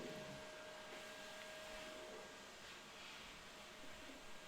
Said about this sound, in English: there's the vacuum